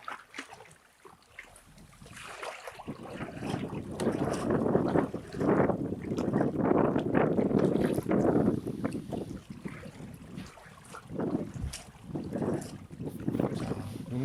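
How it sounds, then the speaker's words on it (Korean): Strong wind gusts buffet the microphone during fishing at a stream or pond with flowing water, a loud, rough, fluctuating rumble. It swells and fades in surges throughout, with no speech. "바람 참 오지네"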